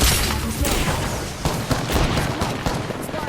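Dense, continuous gunfire from the Apex Legends battle royale shooter, rapid automatic bursts layered with booms and impacts that fill the whole stretch without pause.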